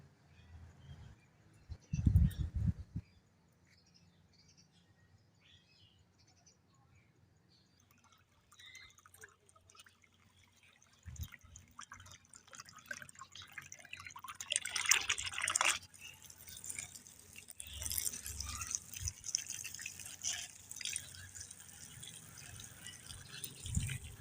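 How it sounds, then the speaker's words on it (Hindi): Water drips and splashes in quiet, scattered bursts while plants are watered and a bird water dish is filled outdoors in the morning, with no talking. "सुबह आके यहाँ पौधों को पानी दूँ और परिंदों को पानी डालूँ"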